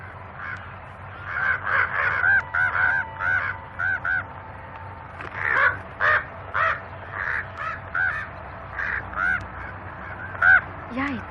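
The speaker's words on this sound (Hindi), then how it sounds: "यहाँ इतने सारे कौवे क्यों हैं?" Many crows caw near a church in repeated harsh bursts, loud and fairly close, over a steady low background rumble.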